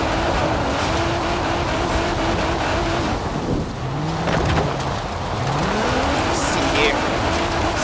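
A 1,000 hp Nissan R35 GTR slides around in Forza Horizon 4, its engine tone rising and falling with gear changes and drifting, continuous and fairly loud beneath steady game noise.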